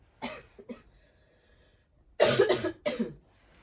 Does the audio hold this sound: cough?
yes